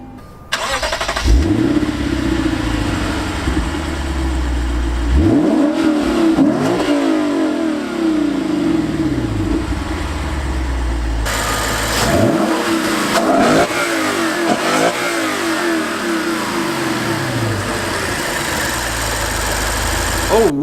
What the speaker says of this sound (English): that was that 5-liter naturally aspirated V8